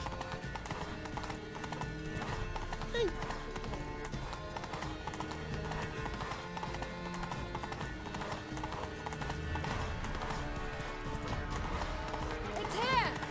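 Roach, the horse in The Witcher 3: Wild Hunt, pounds along at a gallop in Toussaint, with steady rapid hoof clops running through the whole stretch and an occasional whinny, all under a dense game soundscape with voices talking.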